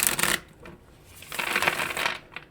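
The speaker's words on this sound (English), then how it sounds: "Let's give these some shuffles real quick" A deck of oracle cards is shuffled in two bursts of crisp riffling and rustling, close and fairly loud, separated by a short pause, with no talk.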